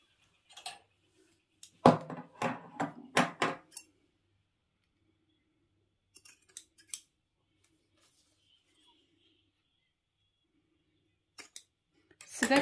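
Scissors snip through the fabric at a zipper end on a homemade shoe storage bag, a quick cluster of several close, crisp cuts, then a few fainter snips after a pause.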